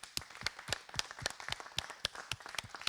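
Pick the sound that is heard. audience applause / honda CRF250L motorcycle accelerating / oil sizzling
audience applause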